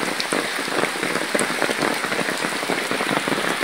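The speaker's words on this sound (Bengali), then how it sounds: "গাছের থেকে পানি টপ টপ করে পড়তেছে" Village rain drips heavily from trees in a dense, even patter of drops striking the surfaces below, steady and close with no voices.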